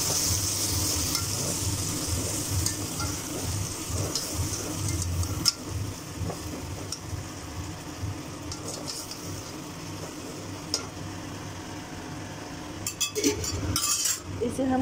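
Tomatoes go into a pan of browned chicken for palao, setting off a steady close sizzle with scraping stirs and occasional clinks of a utensil against the pan.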